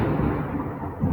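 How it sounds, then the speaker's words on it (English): Loud thunder rumbling low and heavy, filling the short stretch with a deep continuous roll that swells again near the end, with no talking over it. "That's loud thunder."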